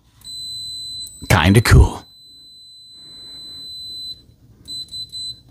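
Continuity-mode beeps from a ZOYI ZT-MD1 LCR tweezer meter: a steady high tone sounding for several seconds, then a quick series of short repeated beeps, loud and close, with a brief spoken remark over the start.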